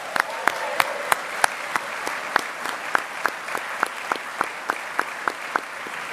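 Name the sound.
audience applause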